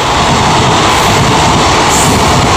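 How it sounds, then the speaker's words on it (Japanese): A freight train passes close by, its wagons clattering loudly over the rails in a continuous, dense roar with a rhythmic clickety-clack, with no voices heard. "ガタンガタンガタンガタンって、すっごい貨物通過するところ、すごいうるさいんですよね。"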